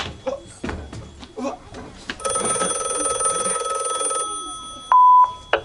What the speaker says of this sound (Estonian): Kuulge! Mis see on? Telefon!